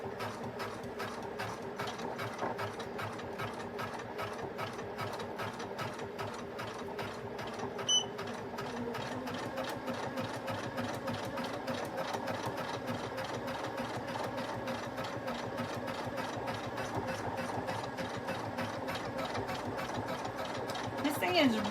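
A Poolin EOC06 quilting machine stitches end-to-end patterns around corners and borders, a fast, even mechanical chatter of needle strokes running continuously at a steady volume.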